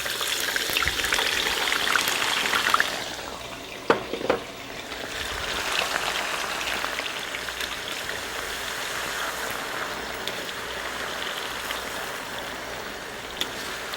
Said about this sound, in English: We're going to deep fry these now.